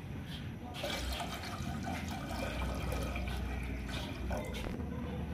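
Water pours steadily into a pan for making tea in a home kitchen, a continuous splashing stream running for several seconds, fairly close and alone.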